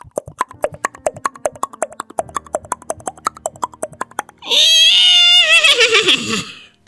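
A human voice imitates a horse: a long run of steady clip-clop tongue clicks like trotting hooves, then a loud, wavering, falling whinny, all close and with no other talk.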